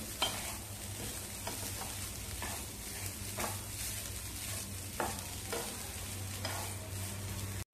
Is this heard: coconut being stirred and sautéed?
yes